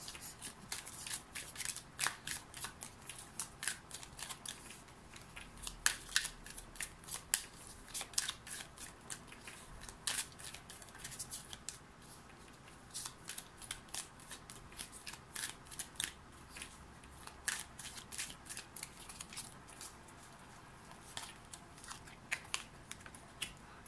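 Oracle cards being shuffled for a tarot-style reading, a steady run of crisp, fluttering riffles and soft card slaps close by for over twenty seconds, with no talking.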